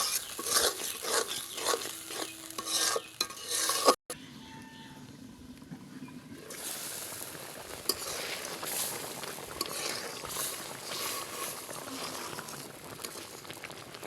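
A thick ridge gourd and poppy seed curry bubbles and simmers in a pan as it is stirred. A steady close burble of thick liquid is broken by a brief gap near the start.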